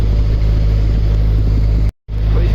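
A narrowboat engine turning against the flow of the tidal River Ouse, a loud steady low drone and hum heard close up, broken by one brief dropout before resuming.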